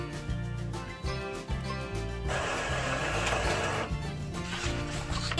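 An Epson EcoTank L3210 inkjet printer prints a color page, giving a steady mechanical whir with rhythmic low pulses of the print head carriage moving back and forth, plus a louder broadband passage of paper feeding midway, with no talking.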